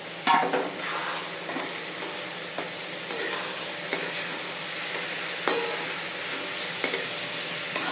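Tomatoes sauté in a pan for tomato rice, a steady close sizzle punctuated by regular scraping stirs of the spoon against the pan.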